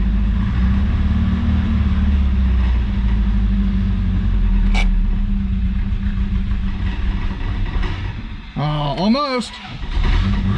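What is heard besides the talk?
1983 Toyota Celica 22R engine warming up toward idle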